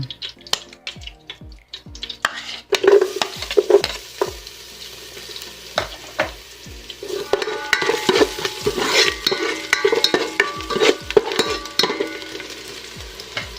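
Garlic frying in a pan for chicken macaroni soup, a constant crackling sizzle punctuated by frequent scrapes and knocks of a spatula against the pan, growing busier and louder midway, close and without talk.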